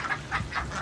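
A duck quacks several times in quick succession, close and clear, with no one speaking.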